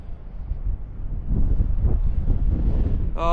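Wind gusts buffeting the microphone on the Three Capes Track in Tasmania, a loud continuous low roar that swells and stays strong throughout, heard alone.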